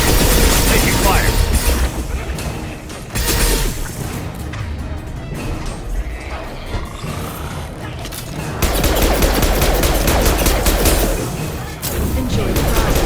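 Bursts of gunfire and impacts from a sci-fi shooter firefight in Mass Effect 2, loud and dense, with heavy rapid fire easing in the middle before resuming, while voices call out over the combat.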